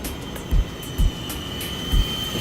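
A Walkera V370D01 flybarless RC helicopter flies outdoors in wind, giving a steady whine with a faint high tone, while low wind thumps hit in three brief bursts across the short stretch.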